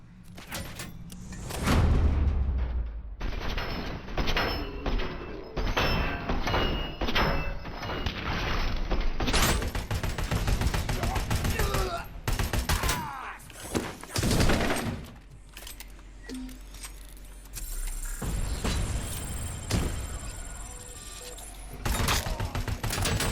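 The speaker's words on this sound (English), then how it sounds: "Oh no, OCP turret." An OCP turret opening fire in RoboCop: Rogue City, bursts of loud automatic shots mixed with clanging impacts and mechanical noise, repeating in clusters over the stretch with short lulls between.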